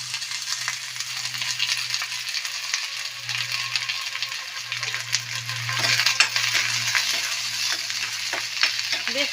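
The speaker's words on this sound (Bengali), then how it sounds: "তেলের মধ্যে পেঁয়াজটি ভাজা নিন" Onion fries in oil in a pan with a steady bright sizzle, and a spoon stirs now and then, scraping and clinking.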